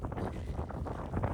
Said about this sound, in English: Oh, it's windy up here.